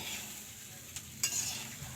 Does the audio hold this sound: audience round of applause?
no